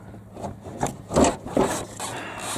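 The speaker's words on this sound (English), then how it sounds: "Pull out the stupid bracket." A metal bracket is worked loose and pulled out of a Chevy Blazer brush guard, giving a few short, close scraping and rubbing bursts.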